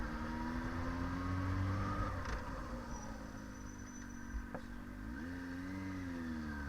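A motorcycle pulling away after emergency braking practice, its engine droning steadily and then rising in pitch as it revs and accelerates, heard at moderate distance.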